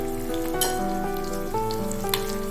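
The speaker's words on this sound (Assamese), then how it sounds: "বেছি নহয়, আধা মিনিট ভাজি ল'ম।" Paneer pieces sprinkled with pink salt fry in a pan with a steady, close sizzle that runs continuously beneath soft background music.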